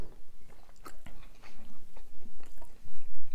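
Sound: chewing pizza during a mukbang

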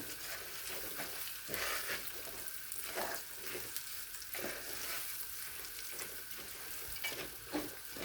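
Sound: rice being stirred and toasted in a pan for pilaf

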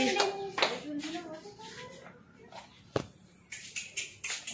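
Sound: clapping hands

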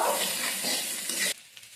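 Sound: sautéing chili powder and cumin powder in a pan

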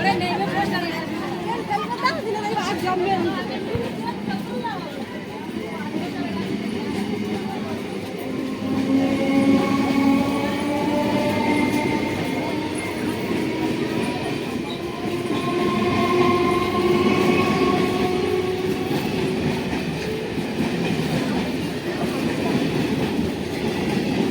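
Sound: train leaving Narendrapur railway station platform

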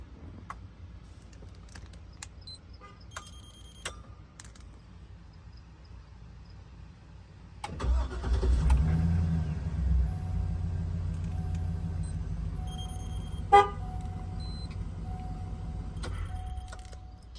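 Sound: car engine remote-started with an AstroStart key fob

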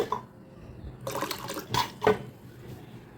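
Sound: pouring water to soak black kavuni rice

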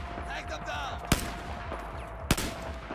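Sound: gunfire in video game Battlefield 4

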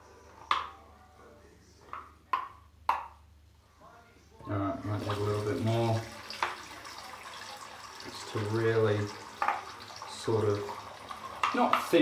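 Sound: water running for a shaving mug

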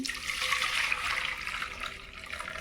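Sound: pouring away water used to rinse lentils

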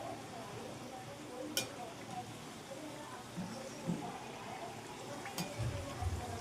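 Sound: matar kachori frying on medium gas heat

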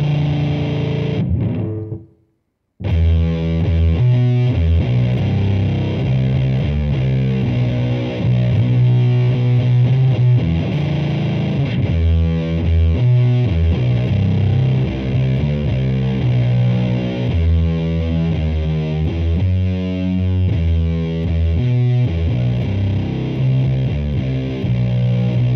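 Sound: distorted electric guitar playing root minor third dyad doom riff

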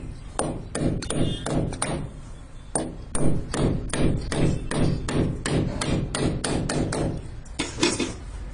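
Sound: hammering nails into a wall to hold an electrical pipe

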